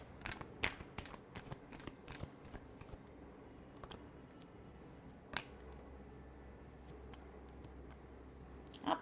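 Cards being shuffled at close range, a quiet run of soft riffles and snaps with no talk over it.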